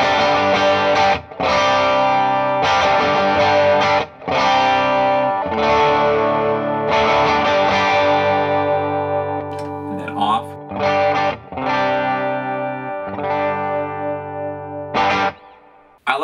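Electric guitar played through a Strymon Sunset dual overdrive pedal set to a lightly driven, slightly crunchy tone: sustained chords and riffs with a few short breaks, loud and close, with no talking over it.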